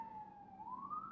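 An emergency vehicle siren wails faint and distant in the background, its single tone sliding slowly down and then back up.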